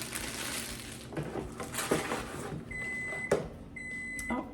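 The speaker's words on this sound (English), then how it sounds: "I've got my butter melting in the microwave" A microwave oven runs softly while melting a stick of butter in a bowl, a low steady hum with a few faint clicks and pops, and thin high electronic tones near the end.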